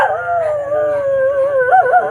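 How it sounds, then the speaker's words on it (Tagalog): A dog howls close by in one long, loud, wavering cry that rises and trembles at the end. "maingay yung aso"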